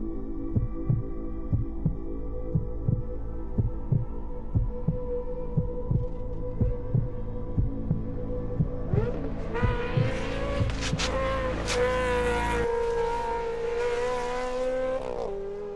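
A Ferrari 360 Modena Challenge race car engine idles with a deep rhythmic throb, then revs up sharply into a loud, rising howl near the end, close by and alone without talk.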